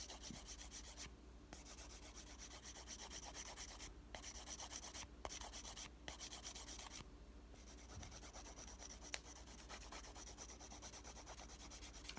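A 180 grit file gently smoothing the top of a Gelish PolyGel nail surface, a faint, steady scratchy rubbing that runs continuously with a few brief pauses, close by and alone.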